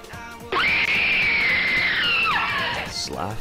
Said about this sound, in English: Slaff screaming.